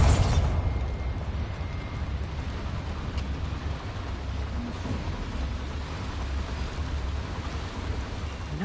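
A Bombarda blasting spell goes off in Hogwarts Legacy, a loud booming explosion at the start that settles into a dense, rumbling roar of debris and crackle lasting several seconds.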